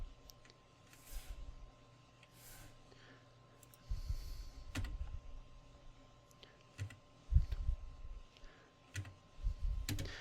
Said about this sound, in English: I'm going to push M on the keyboard to set a marker.